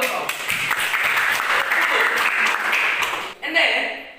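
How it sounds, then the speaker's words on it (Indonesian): Applause from a small group in a classroom-style lesson, a moderate patter of clapping that runs for about three seconds, then breaks off briefly before a short burst resumes. "Tepuk tangan buat kau."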